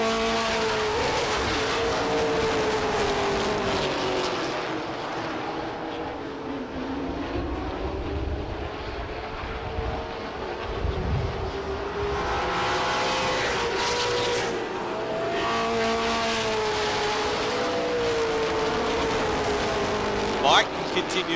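Pro stock race cars in a heat at Lee USA Speedway, engines droning and rising as cars pass, with whooshing pass-bys, under steady race commentary from an announcer.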